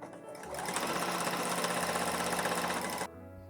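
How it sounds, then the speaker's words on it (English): A sewing machine runs in a steady, fast, close-up rattle for about two and a half seconds while stitching binding onto a star placemat, then stops abruptly. "fold the binding back downwards to make a straight edge so I can start sewing again 1/4 inch from the corner"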